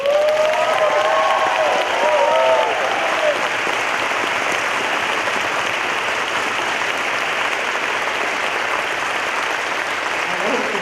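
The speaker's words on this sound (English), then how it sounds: "Can you give my staff an applause?" Loud, sustained applause from a large audience at an anniversary awards gala, with some cheering and a faint voice near the start, the clapping continuing at a steady level throughout.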